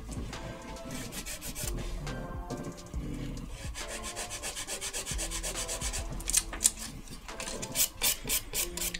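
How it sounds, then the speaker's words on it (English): A nail file rasps across acrylic nails at close range, quiet rhythmic scratchy strokes that grow quicker and more clipped toward the end, with no voices. "I usually start off filing my sidewalls in, so from the sides and from the underneath as well."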